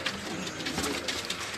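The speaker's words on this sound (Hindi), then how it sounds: "बहुत बढ़िया सीनियर कबूतर है जी" A senior pigeon coos close by in a soft, steady run that fills the short moment, with no talking over it.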